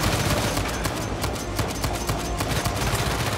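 Gunfire in the video game Uncharted 4: A Thief's End, a dense burst of rapid shots fused into a continuous loud rattle lasting several seconds, up close and alone without talk.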